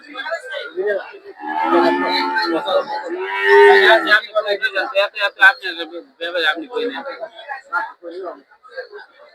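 Cattle, including Sahiwal cows, low and moo amid a busy crowd of buyers at an outdoor livestock market, with people talking nearby throughout.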